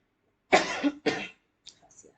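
Two harsh coughs in quick succession from a nearby adult woman, followed by a faint throat-clearing rustle, in a quiet room.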